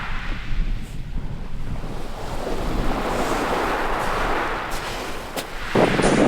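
Winter sea washing onto a beach as the tide ebbs, a continuous rushing surf with gusting wind buffeting the microphone close by, ending in a louder splash.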